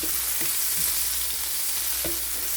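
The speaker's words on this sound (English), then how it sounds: "So we will saute that one until this will become slightly golden brown or translucent" Chopped garlic and white onions sautéing in a hot pan for a bitter gourd dish, a soft continuous sizzle with a few light scrapes and taps from stirring.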